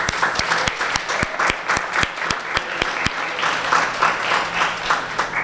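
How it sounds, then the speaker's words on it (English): A conference audience gives a round of applause, a sustained burst of many hands clapping, with a few loud close claps punctuating the steady wash before it gradually thins. "I just want to give another round of applause to GBT and Dr."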